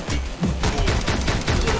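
Rapid gunfire bursts in the Speed Limit video game, a dense fusillade of repeated shots filling the clip, loud and close with no talk over it.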